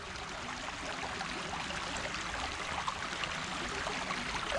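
Steady rushing of a flowing stream, a continuous broadband wash of water with no pauses, fairly close and even in level.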